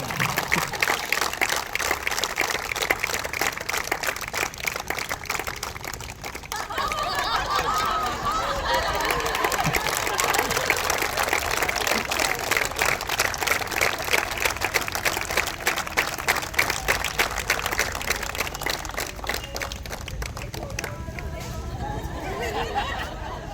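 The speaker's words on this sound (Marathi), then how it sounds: "आता जरा अधिक टाळ्या वाजायला हव्या।" Audience at a felicitation program for Comrade runners clapping steadily throughout, a dense sustained patter of applause with crowd hubbub mixed in and a brief dip in the middle.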